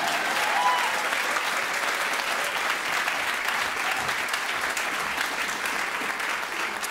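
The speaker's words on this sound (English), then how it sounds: "give him another round of applause" Steady, dense applause from a jazz concert audience for a quintet's band member, sustained at even loudness for the whole seven seconds with no talk over it.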